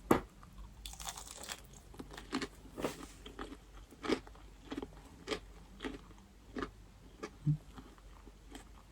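Close, crisp crunching bites and chewing of McDonald's crunchy coated chicken repeat irregularly over several seconds, each crunch distinct against a quiet background.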